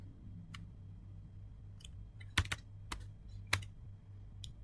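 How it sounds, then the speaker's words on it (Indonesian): Someone types on a computer keyboard in short, irregular bursts of crisp clicks, with a few sharper keystrokes standing out over a faint steady hum. "Sebentar ini kita ketikkan lagi."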